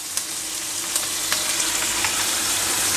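Vegetables frying in a pan with soy sauce for Chinese chicken Manchurian, a steady close sizzle with small crackles and stirring clicks, no voices.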